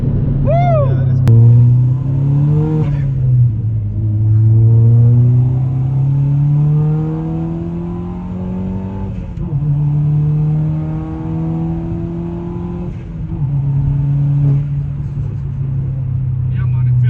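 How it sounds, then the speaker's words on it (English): A tuned 380 bhp SEAT Leon Cupra R manual car engine roars loudly and steadily, its revs rising and dropping through several gear changes, with occasional excited voices over the engine noise. "These manual cars are no joke when they're running power like this."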